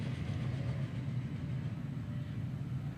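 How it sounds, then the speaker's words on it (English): A long steam freight train in the Transport Fever 2 game rolls past as a steady, dense low rumble with a continuous wheel and engine drone, evenly loud throughout with no voices. "there's a great long steam train doing freights"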